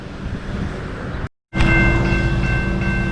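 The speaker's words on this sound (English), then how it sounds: "I thought I heard a train coming." A short train with a single engine rumbles along a railroad in a small town near a marsh, a steady loud roar that cuts out briefly, then returns with a sustained tonal horn-like hum.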